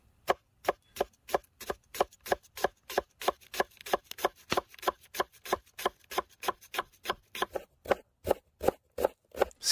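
Steady, rapid knife chops through an onion on a cutting board, dozens of crisp evenly spaced strikes close by, with no talking.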